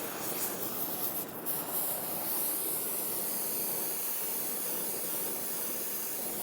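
A torch roars steadily while a copper fitting is soldered and its joint capped, giving a constant close hiss with no voices over it.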